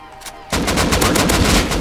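Rapid automatic rifle fire in the survival video game Rust bursts in after a brief quiet moment, a loud, dense stream of close shots rattling continuously to the end.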